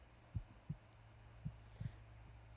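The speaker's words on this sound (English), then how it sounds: "This heartbeat is not easing my nerves. Why is it getting faster?" Heartbeat sound effect from a horror video game: low, muffled thumps in paired lub-dub beats, about five pulses over a couple of seconds, steady and close, over a faint constant low hum, with no voices.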